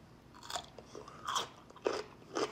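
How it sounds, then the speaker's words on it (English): Crunchy bites and chewing of a Kilhaney's Ragin' Cajun pickle, spiced with cumin, smoked paprika, cayenne and chipotle. Several close, crisp crunches come in quick bursts with no talk. "That crunch is bomb."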